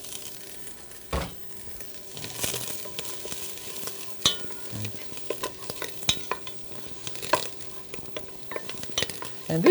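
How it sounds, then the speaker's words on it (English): Onions sauté for a creamy avocado soup, with a soft, steady sizzle in a pan and scattered scrapes and clicks of a utensil stirring them, fairly quiet and close, with no talking. "So I'm gonna start by sautéing my onions here."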